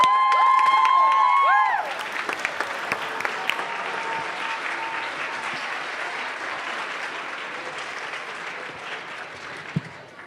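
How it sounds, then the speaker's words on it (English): A school audience at a U School event breaks into a loud, sustained round of applause with cheering after a held tone ends, the clapping filling the room and slowly thinning toward the end. "Let's give a big, big round of applause for U School"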